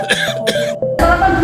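A person's throat-clearing cough, two quick bursts followed by a rougher, louder one, heard close up with no talking.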